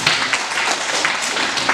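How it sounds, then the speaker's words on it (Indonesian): People at a senior high school supervision session in Kupang clap after a presentation, a close, busy patter of many hands that keeps up without pause. "Presentasi luar biasa, tepuk tangan buat kita semua."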